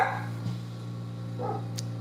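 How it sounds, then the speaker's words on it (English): Dogs barking at a distance in a quiet room, two short separate yips and barks over a low steady hum, with nobody speaking. "Why are they barking?"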